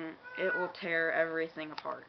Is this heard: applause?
no